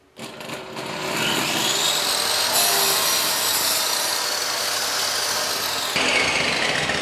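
A table saw runs steadily, cutting a groove in wood for several seconds, a loud continuous whine with a rough grinding texture and no talking.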